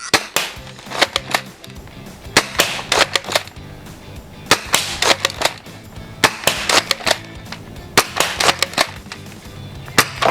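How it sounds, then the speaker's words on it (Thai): A Dartzone Pro toy blaster fires darts indoors that strike a glass pane, sharp loud cracking impacts arriving in irregular bursts and clusters over a quiet room background. "ตอนยิงนี่มองไม่เห็นกระสุนแต่ว่าตอนกระทบกระจกนี่แบบปึกปึก"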